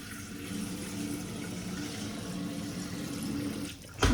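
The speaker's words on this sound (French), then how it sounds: "Il faut mettre de l'eau." Running tap water fills a Thermomix bowl for a cleaning cycle, a steady continuous rush that ends with a louder clatter at the very end.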